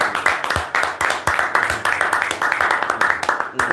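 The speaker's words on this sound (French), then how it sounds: "Applaudissons pour la maison." Steady applause from a crowd, dense clapping that carries on throughout with a few louder individual claps standing out.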